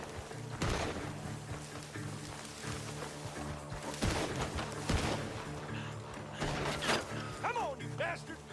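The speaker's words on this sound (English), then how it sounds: "The gunshots are coming from that barn." Several sharp gunshot-like bangs from a barn spaced apart over mechanical background noise, with brief voices in between, in the video game Red Dead Redemption II.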